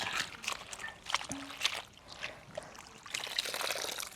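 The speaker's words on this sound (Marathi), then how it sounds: "भरपूर पाण्यात एकच धुवून घेऊया" Spring onions being washed in a large amount of water, with continuous splashing, sloshing and trickling close by, interrupted by a few brief knocks and rustles.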